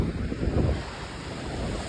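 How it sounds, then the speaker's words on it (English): Ocean waves wash onto a beach in a steady low roar, with gusts of wind buffeting the microphone and no one talking. "Look at the waves."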